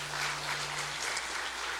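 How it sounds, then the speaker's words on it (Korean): A church congregation applauding during a Korean Sunday worship service, a short, even burst of massed clapping with a low steady hum beneath. "박수해 주시면 고맙겠습니다"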